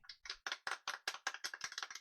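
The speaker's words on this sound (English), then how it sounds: "Who the fuck is clapping?" Hand clapping in the role-playing video game Trails in the Sky, a single person's crisp claps repeating at a quick, even pace, fairly close and fairly quiet, with no talk over them.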